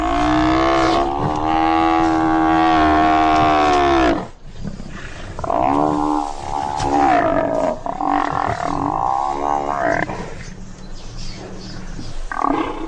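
A lioness and a buffalo fighting in the wild, with deep, loud, sustained roaring and bellowing that breaks off, then returns in rougher, strained bursts, with no talking.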